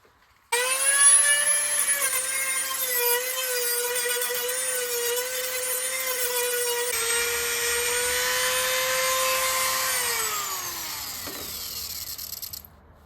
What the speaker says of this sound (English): I am going to try to use this Dremel to just get it down to approximately where the other pieces are